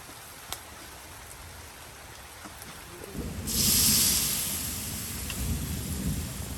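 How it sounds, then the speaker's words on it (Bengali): A heavy downpour breaks on a rainy day: quiet hiss with a few faint ticks, then about three seconds in a loud rushing roar swells up and keeps pounding steadily, with a low rumble beneath, and nobody speaks. "শুরু হয়ে গেল মুষলধারে বৃষ্টি। দেখো কত বৃষ্টি হচ্ছে।"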